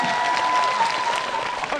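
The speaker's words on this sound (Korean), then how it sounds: "저 박수 받았어요." Studio audience applause during a televised debate show, a dense, steady patter of many hands clapping at moderate volume throughout, with a faint tone running underneath.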